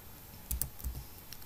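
Code being typed on a computer keyboard, a couple of soft close keystrokes and clicks in an otherwise quiet room.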